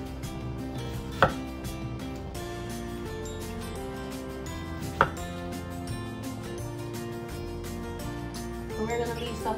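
A knife chops pineapple for a detox drink, with two sharp, isolated cuts against steady background music.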